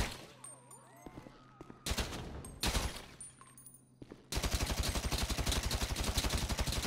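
Gunfire at windows in GTA 5 Online, with a few separate loud shots early on, then a rapid sustained burst of repeated shots through the final seconds.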